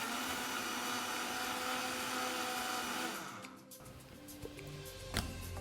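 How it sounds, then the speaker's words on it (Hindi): A mixer grinder grinds dry thandai masala spices with a loud, steady whir for about three seconds, then winds down and goes quiet, with a few faint knocks after it stops. "ये जाएगा सीधा हमारे मिक्सर ग्राइंडर में।"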